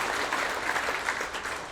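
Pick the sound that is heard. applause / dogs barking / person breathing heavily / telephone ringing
applause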